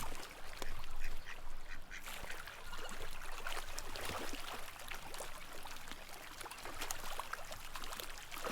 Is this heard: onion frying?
no